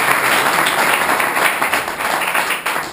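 Loud, dense applause fills a community cook-off gathering at the Rione Santa Maria, with many hands clapping continuously nearby before it begins to thin out.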